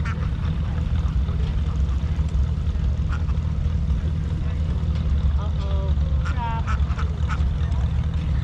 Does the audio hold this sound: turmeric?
no